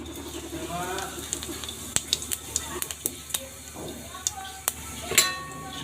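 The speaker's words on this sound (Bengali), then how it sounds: "আর একটু তেল দিয়ে আমি এর মধ্যে দিয়ে দেব জিরা ফোড়ন" Cumin seeds sizzle softly and crackle in hot oil in a kadai, with scattered clinks and scrapes of a utensil against the pan.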